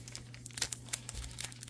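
Foil wrappers of Topps 2024 Series 1 trading card packs crinkle and tear in quick, close bursts of crackling, faint overall with no talking.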